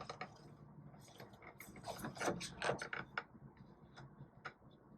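Plastic joints of a Transformers Masterpiece figure being handled, a run of small clicking pops and ratcheting snaps, quiet and close, clustered irregularly with no talking.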